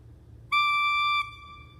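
A trumpet pipe of a pipe organ, its tone amplified by a metal cone on top, sounds one loud, bright, buzzy sustained note for under a second, starting and stopping cleanly over faint background hum.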